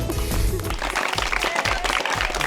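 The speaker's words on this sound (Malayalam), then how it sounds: "ആദ്യമായിട്ടാ എന്റെ നാടകത്തിന്റെ അവസാനം കൈയടി കിട്ടുന്നത്" Steady applause from an audience at the end of a stage play, clapping continuously and fairly loud throughout.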